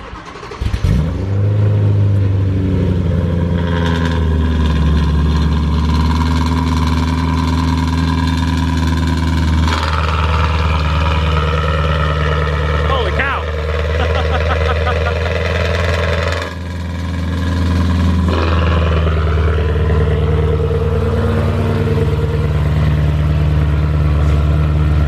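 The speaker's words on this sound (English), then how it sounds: "It's about to cold start it up." A loud BMW M3 engine cold starts, cranking and roaring to life, revving high and then settling into a deep, steady rumbling idle with occasional blips of the throttle.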